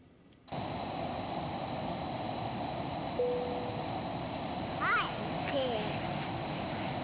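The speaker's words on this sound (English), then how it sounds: "Hope you heard that over the sound of the airplane" Phenom 300 jet in flight, a steady loud cabin roar of engine and airflow running through the whole stretch, with brief chirps and tones and faint voices over it.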